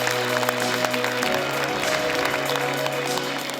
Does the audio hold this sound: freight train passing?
no